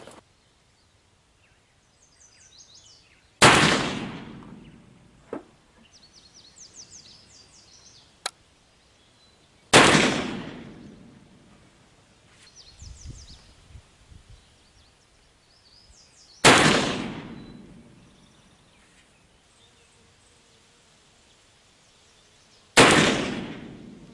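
Four loud, sharp gunshots from an 1858 Pietta revolver loaded with 18 grains of homemade willow black powder, each with a decaying outdoor echo, spaced several seconds apart, with faint birdsong and small knocks between shots.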